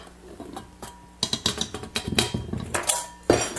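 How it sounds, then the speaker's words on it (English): A utensil mixing powdered sugar into cookie icing in a bowl, giving irregular scraping clinks and taps against the bowl, close and moderately loud, with no talking. "now we're going to mix in the rest of our powdered sugar"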